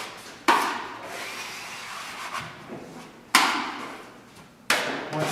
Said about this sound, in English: Clean up any excess mud on the outside of the bevel.